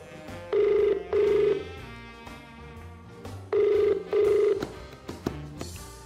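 A telephone rings in two double bursts, loud and clear, during a call-in television game show, with music and studio sound continuing beneath the rings.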